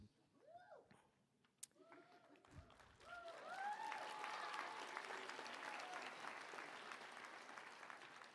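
Applause for faculty at a technical college commencement ceremony, starting faint with scattered sounds and voices, then swelling into broad, sustained clapping for the last five seconds.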